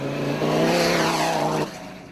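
A Ford Ranger rally race truck at the Vryburg 400 roars past at speed, its engine note climbing then dropping sharply as it passes close by, loud and brief, with no voices.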